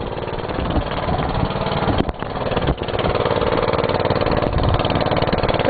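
A Gravely engine runs loudly and steadily at close range, a rough continuous drone with a couple of brief dips in level as the exhaust valve is worked.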